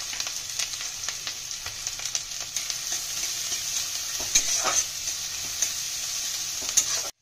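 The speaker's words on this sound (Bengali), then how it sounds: "পেঁয়াজ আদা লঙ্কা ভাজা ভাজা হয়ে গেছে" Chopped onion, ginger and green chili fry in hot oil for a kachuri filling, giving a steady bright sizzle with repeated stirring scrapes and taps from a spatula in the pan.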